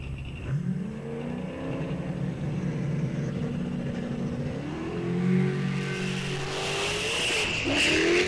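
A heads-up eighth-mile drag race car launches hard down the strip, its engine note rising loud and close, then dropping and surging again as the tires lose grip, with a brief squeal near the end.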